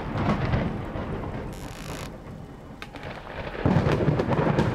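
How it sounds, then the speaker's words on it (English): Deep rolling thunder rumbles through a steady downpour of rain in the video game Bad Dream: Coma, swelling louder near the end of a stormy, continuous wash of noise. "Now it's raining."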